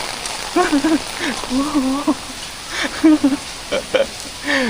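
Heavy rain pours down at Siam Square in Bangkok, a steady close hiss that fills the whole stretch while a voice talks over it in short bursts.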